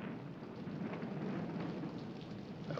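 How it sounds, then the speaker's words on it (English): Rain beginning to fall, a steady soft hiss of drops spread evenly across the whole stretch, fairly quiet and with no voices. "It's starting to rain."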